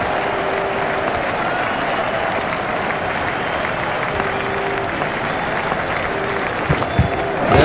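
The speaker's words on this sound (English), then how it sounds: "The crowd were brought to their feet by that shot." Cricket crowd at a South Africa versus Pakistan match applauding a boundary shot, a steady broad wash of clapping and cheering that holds throughout, with a few louder bursts near the end.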